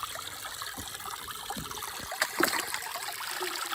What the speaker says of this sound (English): you can see the water seems to be flowing at least the same